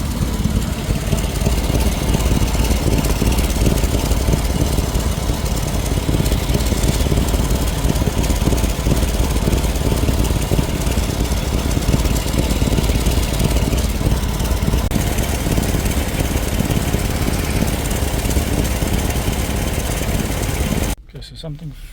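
Car engine idling steadily after a wiring fault was repaired on a vehicle with a troublesome gearbox, a loud continuous rumble heard close up that drops away near the end.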